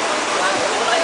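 Strong floodwater current rushes during Typhoon Ondoy, a loud, dense broadband roar of churning water that fills the whole moment without a break.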